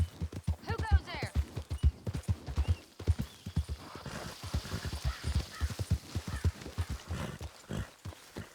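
In the video game Red Dead Redemption 2, a horse's hooves clip-clop in a steady rhythm, with a whinny early on, while people talk over the hoofbeats throughout.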